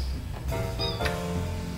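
A kitten gives a single short, high meow, close and clear, against a steady low background hum.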